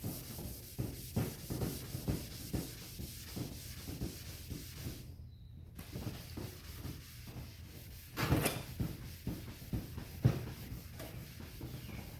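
Wet scuff pad rubbed by hand across a textured car bumper during prep for primer and paint: steady rhythmic back-and-forth scrubbing strokes, close and moderately loud, with a brief pause midway and a louder scrape near the end.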